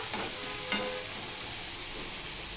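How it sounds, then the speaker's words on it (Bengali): Onion and potato frying in a pan give a steady, even sizzle with a faint stir or two near the start, close and continuous. "আমি আলুটাও দিয়ে দিচ্ছি পেঁয়াজ আলু ভাজা হয়ে যাবে"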